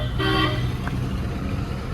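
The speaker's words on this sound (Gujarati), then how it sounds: "આપણે પાવા મારતા મારતા જઈએ છે" A Sigma cabin truck loaded with floor tiles gives one short, loud, tonal horn blast near the start, followed by steady engine rumble on the road.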